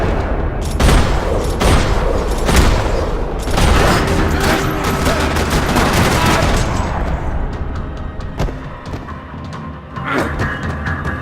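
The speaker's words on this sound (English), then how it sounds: "Another parking lot rattling with gunfire." Dense, sustained gunfire in the video game Max Payne 3 during a parking-lot shootout, overlapping rapid bursts and booming shots filling the scene almost continuously, loud and close.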